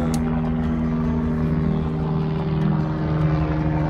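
Loud, steady droning of a helicopter engine with a strong low hum and whirring rotor tone, sustained throughout at close range, in the mountains near Annapurna Base Camp.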